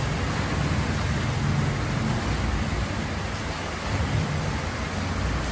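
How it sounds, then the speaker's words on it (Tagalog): Rain falls at a small farm, a steady dense hiss that stays even throughout, with no voices. "Umuulan na naman, mga Mars."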